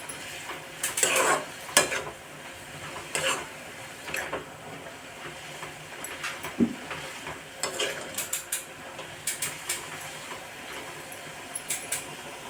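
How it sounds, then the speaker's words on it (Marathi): Spinach bhaji topped with fresh coriander is stirred in a sizzling pan, with a steady low fry under repeated scrapes and clinks of a spoon against metal, close and moderately loud. "त्याच्यावरती ओली कोथिंबीर थोडीशी टाकून देऊया। त्याला असं मिक्स करून घेऊया।"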